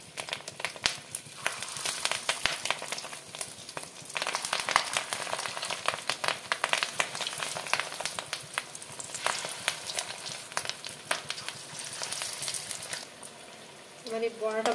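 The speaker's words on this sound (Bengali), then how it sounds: "তেলটা গরম হয়ে গেছে, আমি একটা একটা করে বড়াগুলো ভেজে নেব।" Katla fish roe fritters frying in hot white oil, a close crackling sizzle with irregular pops and bursts, and a voice talks faintly at times.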